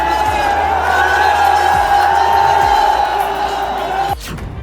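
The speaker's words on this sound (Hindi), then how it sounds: "स्टेडियम के अंदर खचाखच भरे लोग, स्टेडियम के बाहर भी उतनी ही भीड़" Large crowd roaring and cheering at Chandrashekhar Azad's packed rally in Indira Gandhi Stadium, a dense sustained wall of voices with whoops, steady and loud throughout before cutting off abruptly near the end.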